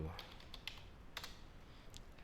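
A web address is typed on a smartphone, a quick run of faint, light taps close by, spaced irregularly over a couple of seconds against a quiet background.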